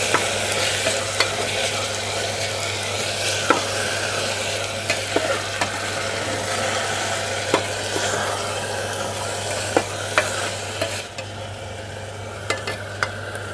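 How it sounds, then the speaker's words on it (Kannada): Tomatoes with a little salt sizzle steadily in a pan, with a spoon scraping and clinking at irregular intervals as they are stirred, close and without speech. "ಟೊಮೊಟೊ 1-2 ನಿಮಿಷ ಹುರ್ಕೋತಾ ಇದ್ದೀನಿ."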